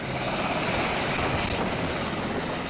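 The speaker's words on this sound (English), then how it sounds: "The officers, with the classified hard drives in hand, soon board an HS-60 Seahawk helicopter and leave Nimitz." An HS-60 Seahawk helicopter leaving the aircraft carrier Nimitz produces a loud, constant droning roar with a dense rotor and engine rumble that holds steady throughout.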